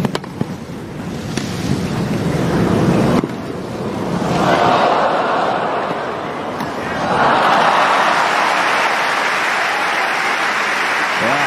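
Spectators applaud at Wimbledon after a tennis rally between Sela and Nadal. Several broad waves of clapping and crowd noise swell and fade across the stretch.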